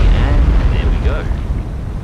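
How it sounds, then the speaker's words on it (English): A torpedo strikes an enemy landing ship in a naval combat game, a loud rumbling blast with a sustained roar and low boom that fills the moment, with no voices over it. "it looks like our torpedo is tracking nicely, and there we go."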